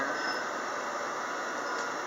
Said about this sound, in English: This is just a train ride.